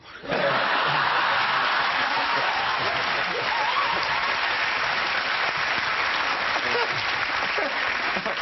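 A television talk-show studio audience gives loud, sustained applause and cheering that fills the room without a break, with bits of laughter mixed in.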